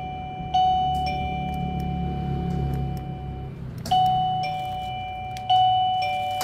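A plug-in gate doorbell rings three times, each chime a bright electronic ding-dong with a ringing decay. The chimes sound fairly close and clear over a low background hum.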